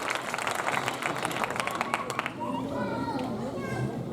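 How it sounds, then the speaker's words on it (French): A church congregation at a special Mother's Day service breaks into a brief, dense burst of clapping that cuts off after about two seconds, followed by voices talking. "On peut les applaudir"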